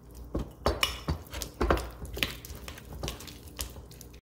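A spoon mixes a clam dip base with a tablespoon of finely minced onion in a bowl, making quiet close wet squishes and scattered clinks of metal against the dish in an irregular rhythm.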